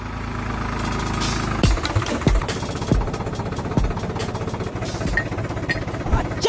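A tractor engine runs close by, brought in to power a thresher on a farm: a steady, low chugging idle with a few sharper knocks and thumps over the drone.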